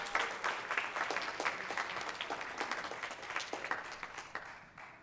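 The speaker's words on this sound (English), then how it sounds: "If you give her a round of applause, I'd really appreciate it." Audience applause fills a school auditorium after an 8th grade band's Christmas concert: a dense, steady wash of many hands clapping, loud and sustained, tapering slightly near the end with no talk over it.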